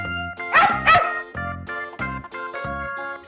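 A domestic dog barks a few times in quick, close, loud yaps, with a gentle musical accompaniment running underneath.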